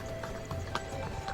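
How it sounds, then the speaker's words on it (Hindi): Horse hooves clip-clop on a mountain trail during the Amarnath pilgrimage, with a rider on the horse's back. The hoofbeats are steady and moderately close, and a constant low rumble of outdoor background noise runs underneath them. "घोड़ा के ऊपर यात्रा कर रहे हैं"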